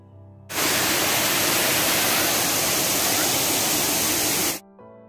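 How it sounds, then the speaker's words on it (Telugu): Steady rushing water from a small waterfall beside steps at Sarugudu Waterfall, Narsipatnam, roars continuously for about four seconds, loud and broadband, then cuts off abruptly, leaving a quiet background. "ఈ మెట్ల పక్కన చిన్న చిన్న వాటర్ ఫాల్స్ ఉంటాయి"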